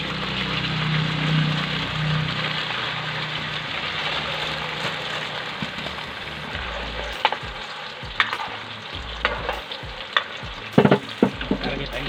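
Fishballs fry in hot oil at a street food stall, a dense, loud bubbling sizzle that later thins out, broken by sharp clacks of a utensil against the pan.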